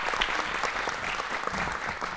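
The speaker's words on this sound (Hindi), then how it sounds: "तालियां जोरदार" A stage audience claps steadily and energetically, a dense wash of applause at close range.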